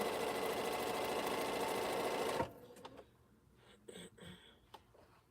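A sewing machine runs in one steady, loud burst of stitching during a quilting session piecing string blocks, then stops abruptly, leaving faint clicks and handling noises.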